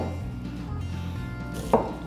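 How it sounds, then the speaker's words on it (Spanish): A knife chopping an onion on a board while beef waits for stew, a few soft cuts under a low background hum, then one sharp, clear knock near the end. "La cebollita la vamos a picar bien a la..."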